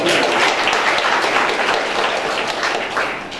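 A crowd applauds at the annual general meeting of a rural women's credit cooperative society. The clapping is loud, dense and sustained, easing slightly toward the end.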